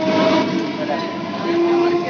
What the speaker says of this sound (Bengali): দেখুন গাইস ট্রেন পেয়ে গেছি, ট্রেন ঢুকলো দেখলেন